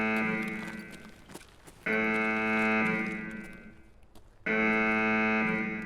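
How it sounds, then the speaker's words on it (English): Loud electronic alarm blaring in Escape From Tarkov, two sustained harmonic bursts separated by a brief gap with softer game noise between them, no talking. "the alarm is really loud"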